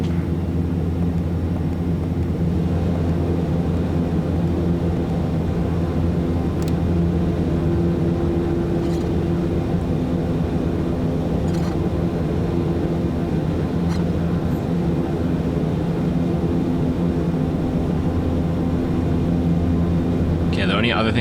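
A Black Square Starship airliner in MSFS 2024 powers up for takeoff on runway 25, a steady loud engine roar and rumble holding throughout, with a voice talking over it.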